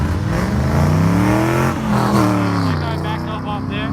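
Several cars pulling into an import car meet, engines revving and rumbling close by with rising and falling pitch, under voices talking.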